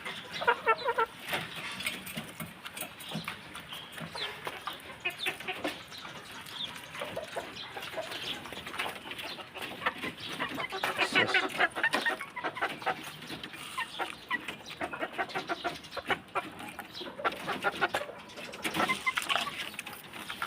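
Pullet chickens clucking in backyard cages, a steady busy chorus of hens with soft clucks and calls layered over one another at close range, with faint splashes of water now and then.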